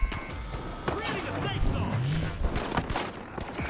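Gunfire in a multiplayer shooter video game: rapid, close bursts of shots and impacts mixed with game effects, running under excited talk from a player.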